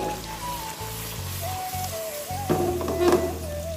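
Fish sizzles steadily as it sautés in a hot pan, with a soft crackle of oil that swells briefly near the end, under faint background tones.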